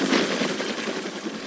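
A helicopter hovering in the Adirondacks to lift an injured hiker gives a steady rotor and engine roar, loud and continuous, holding at an even level with a faint rhythmic pulse.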